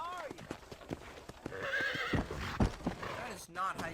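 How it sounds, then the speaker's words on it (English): Horse neighing and hooves clip-clopping in the western video game Red Dead Redemption, with whinnies rising over steady hoofbeats while people talk nearby. "That is not how you park a horse, John Marston."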